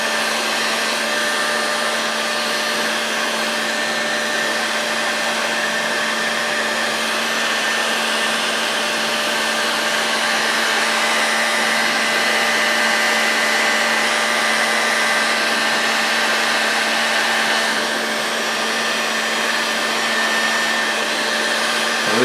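A heat gun blows a steady loud whirring hiss at close range while heating a part of a Moki 2 during disassembly to pop it free, with no snap audible.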